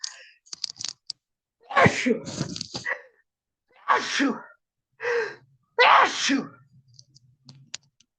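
Someone sneezes in a quiet room during an online class session: a couple of sharp, breathy bursts spaced a few seconds apart, followed by faint rustles.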